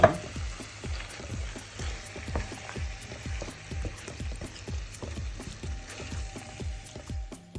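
Chicken cooking in a pot, stirred for a chocolate chicken stew: a soft continuous sizzle with a regular series of low scraping stirs, roughly two per second, close and steady, no talk.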